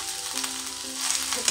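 Red chillies and curry leaves frying in hot oil in a pan for sambar, a steady close sizzle with soft crackling and a few light spatula scrapes, no voices.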